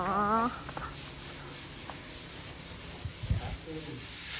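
A screen sheet is sanded during plastering work on a house, giving a steady close rasping rub with a few stronger scrapes, while a voice is briefly heard at the start.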